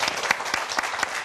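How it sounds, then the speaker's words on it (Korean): Brief burst of audience applause welcoming a lecturer to a talk on parenting and sex education, dense clapping from a room of listeners, fairly near and steady throughout. "선생님께서 오늘 해주실 강의 큰 박수로 청해 듣도록 하겠습니다"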